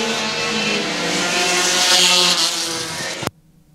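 Four-cylinder enduro race cars roaring around a speedway oval at Star Speedway, a loud sustained engine drone with layered tones from several cars, cutting off abruptly at the end.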